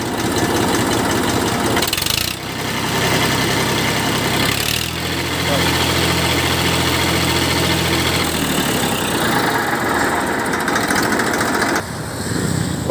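A 2002 Massey Ferguson 1035 DI tractor engine runs loud and close, its diesel rumble rising and falling through revs with a knocking throb, while a voice speaks over it.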